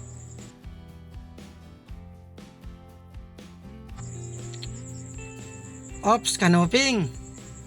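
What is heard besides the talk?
crickets chirping at night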